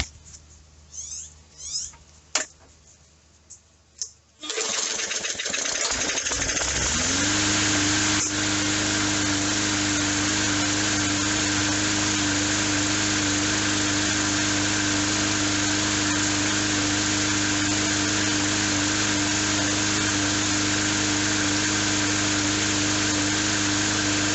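A few clicks and tugs, then a Yard Machines 125cc lawnmower engine, recently wet, catches and settles into a steady, buzzing drone with a slight sputter, running on close by.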